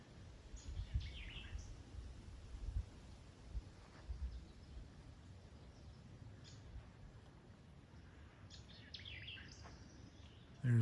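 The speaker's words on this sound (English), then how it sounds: "I'll be quiet so you can hear the birds and the breeze." Birds sing in scattered faint chirps along a lakeside trail in Alabama near Tuscaloosa, over a steady soft breeze with no voices.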